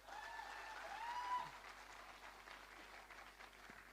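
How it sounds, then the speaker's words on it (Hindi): An indoor seminar audience at a success-day event in Indore gives a burst of applause, many hands clapping together at moderate volume before the sound thins and fades into scattered claps. "तो एक बार जोरदार तालियां आप स्वयं के लिए।"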